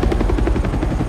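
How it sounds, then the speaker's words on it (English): Helicopter in the video game Spider-Man 2, a steady loud rotor thump with rapid rhythmic chopping pulses filling the whole short stretch, with no talk over it. "Is that a helicopter?"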